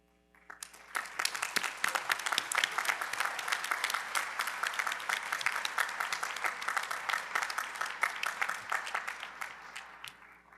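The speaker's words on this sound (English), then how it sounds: "please rise so we might applaud you" Crowd at a university commencement ceremony gives faculty and staff a long, steady round of applause, a broad wash of many hands clapping at even volume for around ten seconds with no speech.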